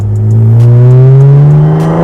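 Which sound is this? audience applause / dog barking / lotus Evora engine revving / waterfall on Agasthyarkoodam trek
lotus Evora engine revving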